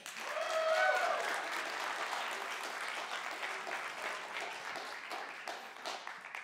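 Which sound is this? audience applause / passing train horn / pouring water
audience applause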